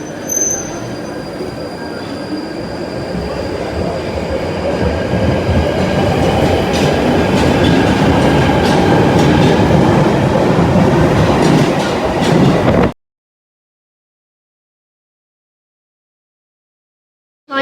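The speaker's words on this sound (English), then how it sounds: "Departing is a Northern Line service to High Barnet." A London Underground Northern Line train pulls out of a station, a loud, steady rumble of wheels and motors with high wheel squeal, building and holding close by before the sound cuts off abruptly.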